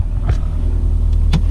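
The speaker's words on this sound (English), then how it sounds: "But now we're taking it, warming the car up, taking it for a drive." Subaru WRX with an STI engine swap, turbocharged at 26 psi and running about 500 bhp on pump gas, gives a loud steady rumble from inside the cabin during a data-logging pull, with a couple of brief higher whooshes.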